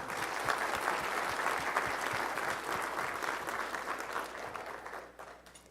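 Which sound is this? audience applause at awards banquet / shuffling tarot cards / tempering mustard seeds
audience applause at awards banquet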